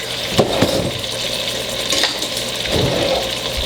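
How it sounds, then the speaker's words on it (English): Sliced onion fries with browned meat in a pan, giving a steady close sizzle. A few sharp utensil knocks and scrapes come through, and no one speaks. "we're just gonna slide our onion right off into this and let that cook"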